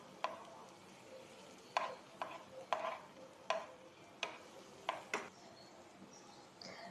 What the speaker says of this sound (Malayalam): നന്നായിട്ട് ആ പൊടിയുടെ പച്ചമണമൊക്കെ ഒന്ന് മാറും വരെ നന്നായിട്ട് വഴറ്റി കൊടുക്കാം.